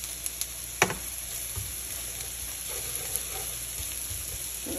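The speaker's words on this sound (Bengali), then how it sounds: "রসুনটা একটু ফ্রাই হয়ে গেলে বন্ধ করে দেবো" Garlic frying in mustard oil for a spicy egg fry, a continuous close sizzle with occasional sharp pops and a light stirring clink, alone without any talking.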